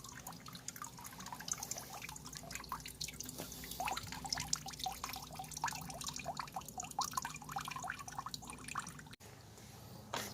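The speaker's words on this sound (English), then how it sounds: "The important thing is to drain that water out." Water drains and drips from a screen set used for classifying gold-panning material, a dense close patter of irregular drops and trickles running continuously, with a brief cut near the end.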